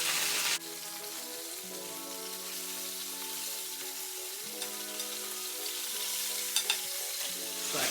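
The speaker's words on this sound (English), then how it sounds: "I'm gonna let that fry" Cube steak frying in a pan for a Sunday dinner, a steady close sizzle and crackle running throughout with a faint low hum underneath and a couple of small pops near the end.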